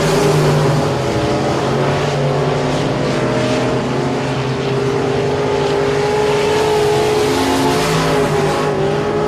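Race cars circling an oval dirt track at Sabine Speedway during a regular race program, a continuous loud roar of several engines blending together without a break.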